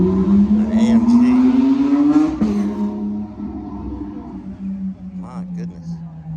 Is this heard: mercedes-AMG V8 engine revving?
yes